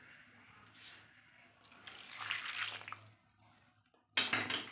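Hot water is poured over cut banana flower pieces in a kitchen, a soft splashing pour that swells and then fades, followed by a brighter, louder burst of running water near the end.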